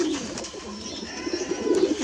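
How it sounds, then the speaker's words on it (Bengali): Giribaj pigeons coo at a pigeon farm, a close, low throaty cooing repeated in soft overlapping phrases, swelling louder near the end, with no talking. "এখানে অনেক ধরনের কবুতর আছে।"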